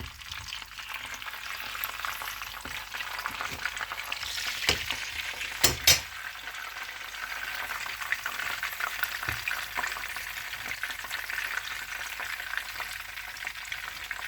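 Bones and peppers fry in a pan with a low, steady sizzle, broken by a couple of sharp utensil clinks partway through; no one speaks.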